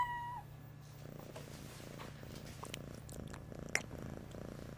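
A cat purring close by in a low, steady rumble that continues throughout, with a few faint clicks and brief tones in the quiet background.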